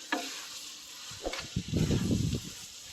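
Pieces of cow spleen hit a hot pan and start to sizzle, with a brief hiss followed by a denser burst of frying and stirring that rises near the end.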